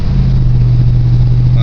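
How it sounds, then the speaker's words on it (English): Inside a 1972 Pontiac Grand Safari with a 455 engine and a small exhaust leak, a loud, steady, low engine drone fills the cabin, with no talk. "It sounds like it has a small exhaust leak."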